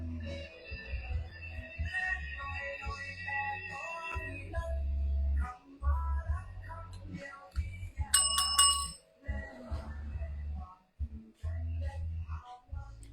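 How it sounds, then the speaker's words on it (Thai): A small bell rings with bright, repeated metallic tones near the eight-second mark in a Thai clothing shop selling Japanese tracksuits, set against low background noise and faint ambient sounds. "หากระดิ่งก่อน"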